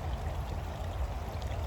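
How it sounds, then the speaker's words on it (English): A small stream flows and trickles steadily into a creek, a soft continuous watery wash heard alone at low level with no voices. "Nice little stream. It goes into the creek, which then will go into the Schuylkill River."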